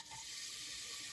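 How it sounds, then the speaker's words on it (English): Running water poured off washed leeks, a steady faint splashing stream like a tap, heard alone with no talk. "drain the water off"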